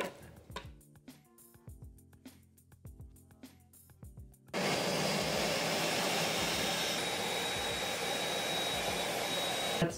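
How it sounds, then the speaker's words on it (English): A blender purees cooked goat pâté with a steady, loud whirring roar that starts abruptly midway and runs on unbroken, after a stretch of quieter kitchen clatter and taps, with no talk. "After it's cooled down slightly, we can now puree."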